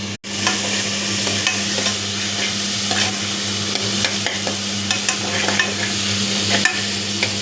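Tomatoes with a little salt sizzle steadily in a hot pan while being stirred, with a constant frying hiss and scattered scraping clicks from the utensil, close and fairly loud, over a low steady hum from the stove.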